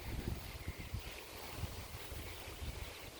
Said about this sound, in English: It's windy today. I hope you can hear me okay in the video.